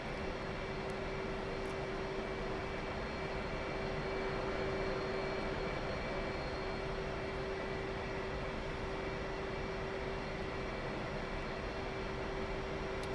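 F-15E Strike Eagle jet taxiing across an air base in the DCS flight simulator, a steady continuous engine drone with a sustained whine, even and unbroken throughout.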